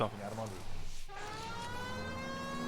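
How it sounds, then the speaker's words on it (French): A police siren wails in the video game L.A. Noire, rising tones layered over engine noise, fairly faint, with someone talking briefly at the start. "Oh, la sirène."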